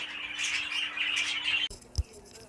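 Budgerigars in a breeding aviary chatter and squawk in a dense continuous warble that cuts off abruptly, followed by a sharp single knock.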